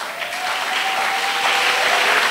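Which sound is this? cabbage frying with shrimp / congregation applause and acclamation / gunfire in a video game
congregation applause and acclamation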